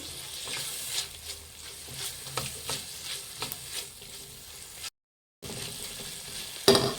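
Chopped tomato stirred in a frying pan for vegetable egg rice, with a steady sizzle and scraping stir strokes throughout, a brief dropout near the end.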